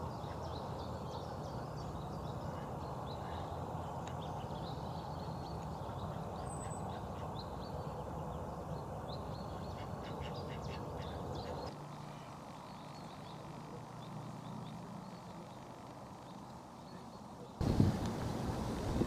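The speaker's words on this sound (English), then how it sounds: "Wouldn't be Easter without a broody duck sat on her eggs." A broody duck sitting on her eggs quacks faintly and intermittently against a steady outdoor background, with a brief louder knock near the end.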